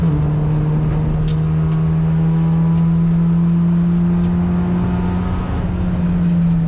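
Renault Megane on the Blyton Park race track during a Javelin Sprint Series session, its engine holding a steady, loud drone with a constant pitch throughout, close by and with no talk over it.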